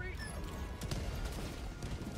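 Mines in a video game minefield go off in a dense, continuous barrage of crackling blasts, with rapid overlapping bursts that hold at a steady loudness.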